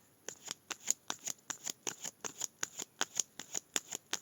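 Playing cards are shuffled by hand, close and crisp, in a quick regular run of about twenty sharp riffling snaps with no speech.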